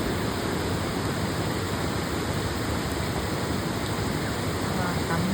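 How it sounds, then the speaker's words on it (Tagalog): A constant heavy roar of rushing floodwater after heavy rain fills the whole clip, dense and unbroken like a fast flood current close by. "Sobrang bulong sa tubig."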